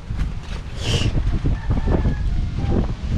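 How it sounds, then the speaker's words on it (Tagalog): Strong wind roars and buffets continuously, with rough rushing water churning underneath, loud and close. "Napakalakas ng hangin at napakalakas ng alon."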